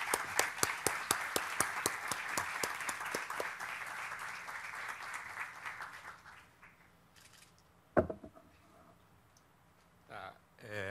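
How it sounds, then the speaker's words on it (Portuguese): Audience applause at a lecture on secondary and technical education breaks out as dense, steady clapping for about six seconds, then fades into scattered claps and quiet room noise with a brief knock. "Peço a salva de palmas."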